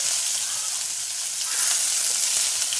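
Onions fry in a spoonful of oil for a carrot and beans dish, a loud, continuous, bright sizzle close by that swells slightly midway.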